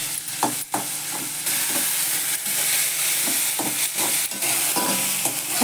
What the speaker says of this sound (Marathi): चांगलं परतू द्यायचं. कांदा वगैरे